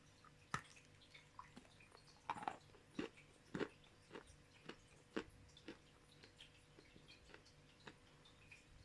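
Close, crisp bites and chewing of soft, loose-textured Bashkirochka edible clay that crumbles like oatmeal cookie, repeated sharp crunchy snaps in an irregular rhythm, with no talking.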